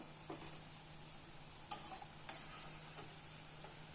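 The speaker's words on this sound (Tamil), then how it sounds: "இதே மாதிரி நம்ம எல்லாத்தையும் பொரிச்சு எடுத்துக்கலாம்" Makkan peda sweets fry in hot oil with a faint, steady bubbling hiss, broken by a few soft clicks from a utensil, quiet and continuous.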